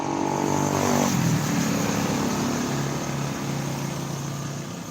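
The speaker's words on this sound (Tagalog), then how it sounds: "Ang ingay dito kasi maraming sasakyan ang dumadaan." Steady roadside traffic noise of cars and motorcycles rolling past on a busy street near a church, a continuous engine drone that stays fairly loud throughout with no voices over it.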